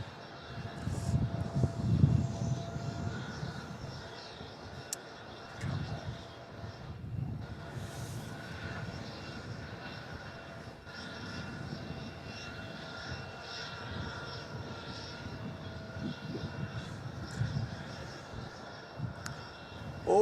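A Boeing 737, one of the younger ones in an Australian fleet, runs its engines at Melbourne Airport, giving a steady low broadband roar that holds for the whole stretch with slight swells.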